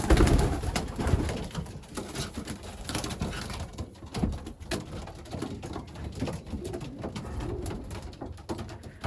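Young pigeons in a loft aviary coo softly, with repeated low burbling calls mixed with light fluttering and pattering, moderately close and with no talk over them.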